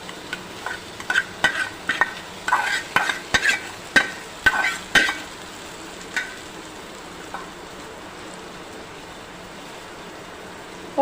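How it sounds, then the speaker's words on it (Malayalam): Mustard seeds fried for tempering a ginger curry for an Onam feast, a cluster of sharp popping crackles over the first six seconds, then only a faint steady hiss, no talk. "ഇതിലേക്ക് നമുക്കിനി കടുക് വറുത്ത് ഇട്ട് കൊടുക്കാം"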